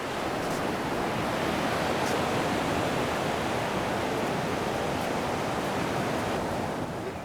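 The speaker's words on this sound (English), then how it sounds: "Yes, that's the freeway." Distant freeway traffic heard as a steady, broadband roar with no breaks, constant and far off, with no voices over it.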